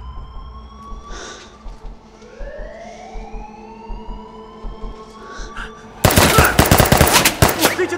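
Automatic weapon fire in a S.W.A.T. police drama erupts as a loud, dense rattle of rapid shots after several seconds of rising siren wails and tense background sound, with no talk.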